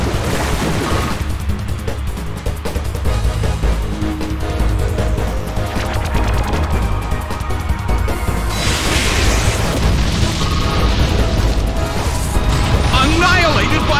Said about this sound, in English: Annihilated by explosion! A huge amount of damage!